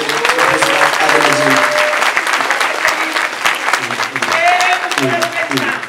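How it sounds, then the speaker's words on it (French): An audience at a lycée's cultural day opening lesson applauds a guest of honour with dense, sustained clapping. A voice speaks over the applause throughout. "Mesdames et messieurs, veuillez applaudir le parrain de la journée"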